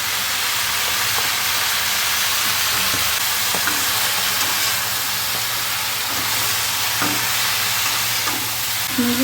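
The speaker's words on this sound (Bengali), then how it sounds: "আদা বাটা দিচ্ছি" Ginger paste sizzles in a hot pan for a mungdal bori and bottle gourd greens stem chorchori, with a loud continuous hiss and occasional soft stirring knocks, close and steady with no talk.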